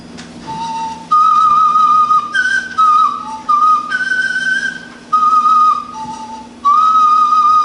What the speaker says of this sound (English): It's the bone flute.